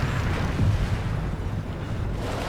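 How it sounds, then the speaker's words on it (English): Aircraft crashing into a hillside in the video game WARNO, a sustained loud rumbling explosion with dense low roar and crackle throughout. "Crashes into that hillside, fiery explosion."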